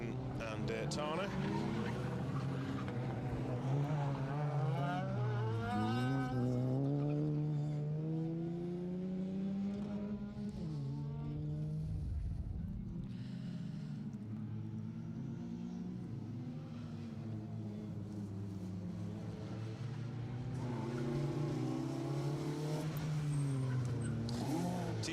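Rally cars on a Protyre Circuit Rally Championship stage at SMC Stages Rally, engines droning and revving continuously as they pass, with a commentator talking over them throughout.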